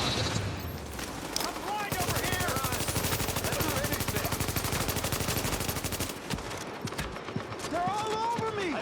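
Sustained rapid automatic gunfire from mercenaries in a shooter video game, loud and continuous for several seconds with game voices and effects around it.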